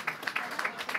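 Applause breaks out from a gathered audience at a Christmas-town event, a short patter of clapping that rises and dips in uneven bursts, moderately near and fairly quiet.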